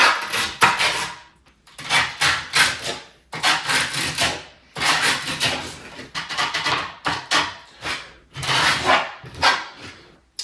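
A screwdriver scrapes along the grip tape edges of a skateboard deck in repeated rough, raspy strokes, each burst about a second long with short pauses between, close and fairly loud.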